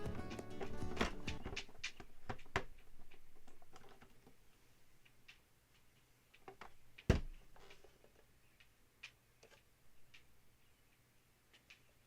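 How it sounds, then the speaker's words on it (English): Scattered light taps and clicks of a sleeping dog's claws on a cabinet, a quick flurry at first and then sparse, irregular ticks with one sharper knock, quiet and close. "her claws are tapping the cabinet"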